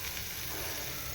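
Mandeli fish frying in a pan of hot oil, giving a continuous close, dense crackling sizzle with no pauses and no voices.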